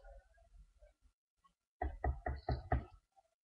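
Five evenly spaced, heavy knocks on a door land in a quick loud burst, after a stretch of faint low background sound.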